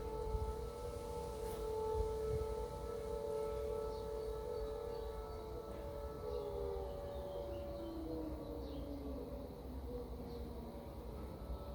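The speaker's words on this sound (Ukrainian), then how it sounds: "на жаль, ви чуєте повітряну тривогу" A long wailing air raid siren drones steadily from a distance, its tone slowly sliding and falling over a low background rumble.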